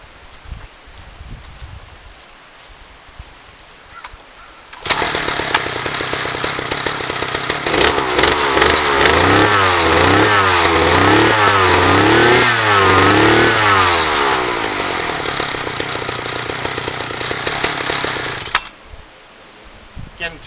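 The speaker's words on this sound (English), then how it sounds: "I'm just going to go ahead and start up this engine" A small two-stroke engine on a motorized bicycle starts up and runs loudly for over ten seconds, revving up and down with a buzzing, rattly tone before cutting off.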